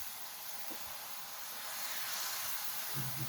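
Grasshoppers sizzle in hot oil in a pan during village cooking, a steady dense hiss that swells slightly louder toward the end, with faint clatter near the close.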